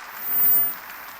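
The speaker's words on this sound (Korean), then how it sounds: "내 아버지 내 어머니에겐 내가 그렇게 다니는 것이 효자인 걸 믿으면 박수야" A church congregation claps during a sermon, a short burst of applause that swells and fades within about a second.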